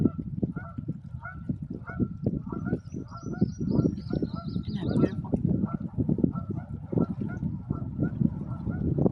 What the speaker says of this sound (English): Do you hear the goose?